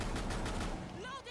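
Rapid gunfire from the shooter game Rainbow Six Siege crackles in quick repeated bursts, fairly loud and close, over a dense mix of other game sounds.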